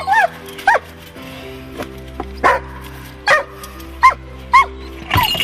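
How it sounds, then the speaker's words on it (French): A Hanoverian scent hound bitch whimpers close by in a string of short, high, wavering yelps, with a few sharper bark-like cries spaced over several seconds against a low background hum. "C'est une chienne rouge de Hanovre."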